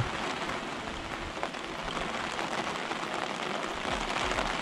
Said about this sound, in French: Une pluie associée à du vent.